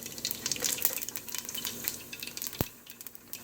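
Spice seeds fry softly in hot oil in a pan on the stove, a low, steady crackle with scattered pops and one sharp tap, no talking.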